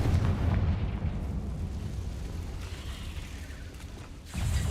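A Confringo blasting spell exploding in a Harry Potter video game, heard as a heavy, rumbling blast that slowly fades, followed near the end by a second booming impact.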